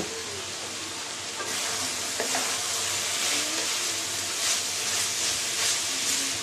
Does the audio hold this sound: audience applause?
no